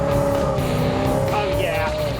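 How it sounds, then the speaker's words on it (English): A Dodge Coronet roars by loudly and close with a sustained engine tone while racing, and a brief tire squeal rises near the end. "about to race this wonderful Coronet"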